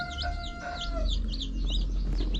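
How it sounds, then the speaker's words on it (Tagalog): Newly hatched chicks just out of an incubator cheep in rapid, repeated high chirps, several birds close together over a low background rumble. "sisiw na tinanggal ko sa incubator kagabi"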